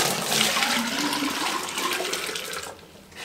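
Water splashes and spills across a tabletop while filling a portable off-grid shower, a loud, close rushing gush that tapers off near the end.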